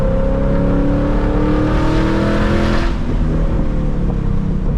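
A 2022 Ford Mustang Mach 1's engine drones loudly from inside the car, its pitch slowly rising and easing as it drives along, steady and close.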